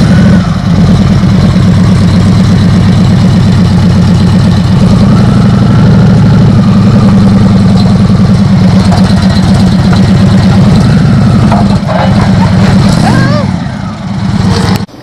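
A cruiser motorcycle engine idles steadily with a low, continuous rumble, loud and close, throughout.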